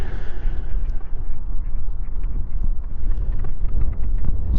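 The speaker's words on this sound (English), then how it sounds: "looks like I've got all the ducks again." Ducks quack on a carp fishing lake, a scattered chorus of calls over loud, rumbling wind noise on the microphone.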